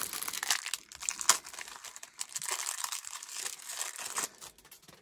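A foil Magic: The Gathering Ikoria booster pack is torn open and its wrapper crinkles, a close, quiet stretch of crackling and tearing with a sharp snap near the start.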